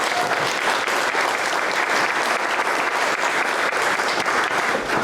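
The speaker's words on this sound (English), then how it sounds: "Please join me in giving them another big round of applause." A crowd at a chamber of commerce celebration gives sponsoring local businesses a big round of applause, sustained thick clapping from many people, loud and even throughout.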